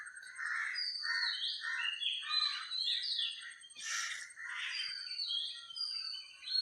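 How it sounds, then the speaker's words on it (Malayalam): Birds chirp and tweet in quick, overlapping bursts at dawn, with a few harsher crow caws among them. The calls are moderately close and sound over an otherwise quiet background with no talking. "നല്ല കിളികളുടെ ശബ്ദം, കാക്കകളുടെ ശബ്ദം,"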